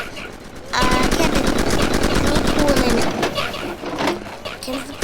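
Rapid automatic gunfire from a Roblox shooting game bursts loudly for about two seconds, then breaks into shorter volleys and scattered shots, with game sounds layered in.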